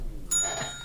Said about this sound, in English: I know you're resisting trying to ring that bell again